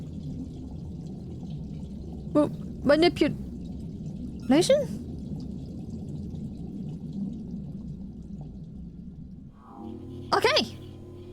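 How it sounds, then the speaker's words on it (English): Water drains out of a pool in a video game with a continuous low rushing gurgle that runs throughout, interrupted by a few brief spoken words. "It's draining the water!"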